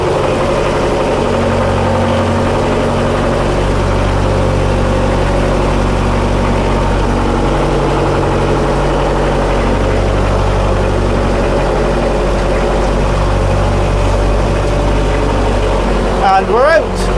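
A Scammell Scarab post office truck engine idles steadily and loudly in a low continuous drone, with slight wavering in its throb throughout and a brief squeak near the end.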